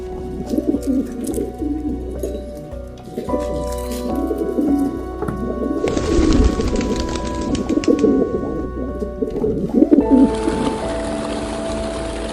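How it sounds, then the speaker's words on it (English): Pigeons coo repeatedly and loudly close by in an urban setting. Their soft throaty calls keep up over a steady background hum, and bursts of broadband noise join partway through. "These pigeons here, ostensibly harmless creatures, symbols of love"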